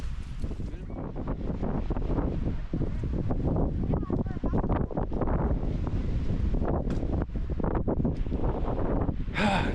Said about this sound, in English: Nothing but wind and clouds.